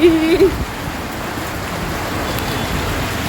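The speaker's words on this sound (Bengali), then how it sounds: "বাইরে বেরিয়ে দেখছি বৃষ্টি শুরু হয়েছে।" Steady rain falls outdoors, a dense, even hiss that holds for the whole stretch, with a brief voice near the start.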